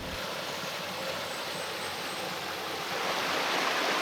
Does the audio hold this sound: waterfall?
yes